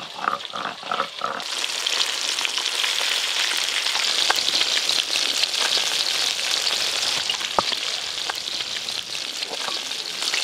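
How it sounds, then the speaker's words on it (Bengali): Fish pieces fry in mustard oil with a steady, crackling sizzle, close and loud, after a few brief knocks at the start and with occasional sharper pops. "মাছের পিসগুলো লাল লাল করে ভাজা হয়ে গেল।"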